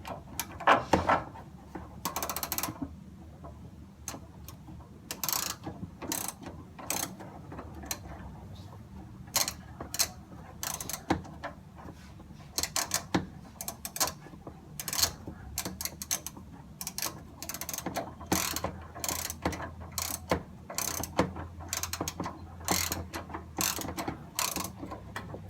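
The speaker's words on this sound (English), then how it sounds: "take my ratchet, stick it back down on there" A ratchet wrench turns a suspension bolt on a Chevy Silverado during a suspension bumper replacement, giving quiet, close bursts of rapid clicking separated by short pauses.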